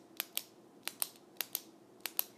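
Pen clicking, seven sharp dry clicks in pairs and singles, fairly close and quiet with no talking.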